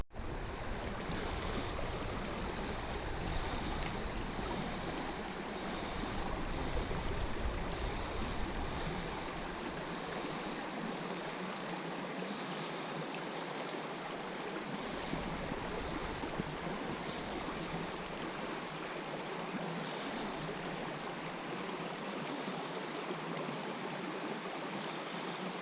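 The North Fork of the Holston River flows steadily, a constant broadband rush of moving water with no pauses, close and even throughout.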